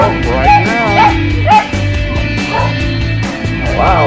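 Shelter dogs barking and yipping in a loud, overlapping chorus, with repeated yelps and whimpers close by and continuing throughout.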